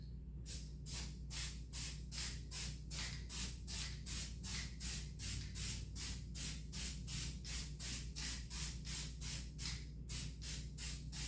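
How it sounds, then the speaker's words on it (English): A spray paint can hisses in short, evenly spaced bursts, about two per second, laying light coats on a 1987 Dodge D100 heater box part; close, faint and steady with no voices. "I can always pop it back off and give it a little quick spray."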